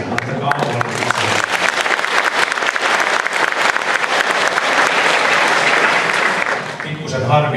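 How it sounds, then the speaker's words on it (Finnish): A concert audience applauds loudly and steadily for about seven seconds at an anniversary show in Finland, with dense clapping filling the hall before it tapers slightly at the end. "Antakaa aplodit."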